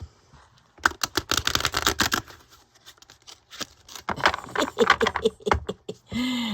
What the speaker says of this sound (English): I'm not the greatest at riffle shuffling